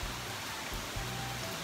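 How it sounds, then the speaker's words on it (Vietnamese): Steady rain falls at Tam Thanh pagoda in the Mau Son area, a continuous even hiss of moderate rainfall with no voices. "đang mưa"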